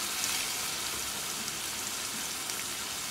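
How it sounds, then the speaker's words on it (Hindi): Minced meat kebab mixture fries in a pan with a soft, steady sizzle and crackle, faint and continuous with no voices. "अब मैं इसको थोड़ा सा फ्राई करूंगी 5 से 10 मिनट के लिए"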